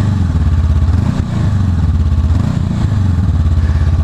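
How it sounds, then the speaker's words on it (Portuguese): A 2019 Honda CB 500X motorcycle idles close by through its twin-outlet exhaust, a loud, steady parallel-twin putter with a slight dip and recovery in the rhythm, with no voices. "E eu liguei a motinha, só para vocês ouvirem."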